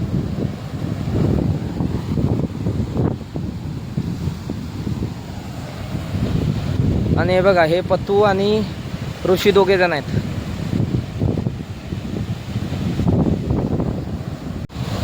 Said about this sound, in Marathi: असा वारा पण खूप आहे आणि पाणी भरपूर मारतोय.